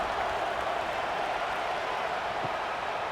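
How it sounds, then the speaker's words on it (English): Stadium crowd noise at a college football game between Youngstown State and Michigan State, a steady, dense roar of many voices filling the air evenly from start to finish, with no single voice standing out. "this crowd is buzzing after that last score"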